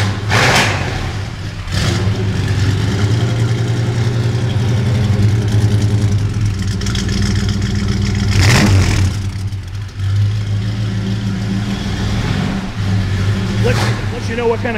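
A 1940 Ford Deluxe business coupe street rod engine cranks and catches, then revs up and down repeatedly near the listener, with people talking over the rumble.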